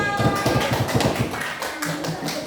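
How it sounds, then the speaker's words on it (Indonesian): A classroom of pupils clapping together at their teacher's prompt, a quick run of close, rhythmic claps that fades out after about a second and a half, followed by faint voices. "tepuk tangan untuk kita semua"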